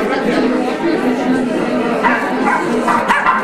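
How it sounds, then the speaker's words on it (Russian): Small dogs at a rehoming shelter bark and yip in a busy, noisy space, with excited whimpering and people chattering in the background throughout. "Кто-то где-то лает, ей тоже надо"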